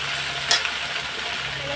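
Spinach and other vegetables fry in a pan in a Bengali home kitchen, with a steady, close sizzle and one brief clatter near the start.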